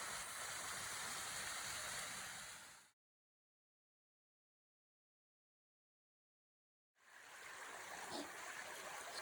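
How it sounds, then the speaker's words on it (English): Cedar Creek flows past a trail crossing with a steady broadband rush of moving water. The sound drops to total silence for about four seconds in the middle, then resumes just as strong. "Cedar Creek. I believe this is Cedar Creek. There's a crossing here."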